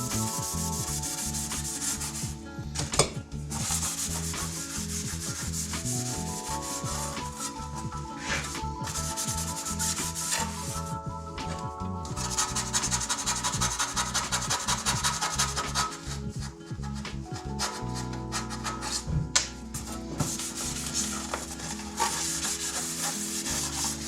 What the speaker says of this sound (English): I'm dipping my Scotch-Brite into a little cup of lacquer thinner.